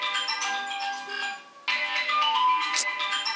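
A mobile phone ringtone for an incoming call plays as a bright, repeating tonal melody, fairly loud and close, with a brief dip midway before the ringing resumes, no talk over it.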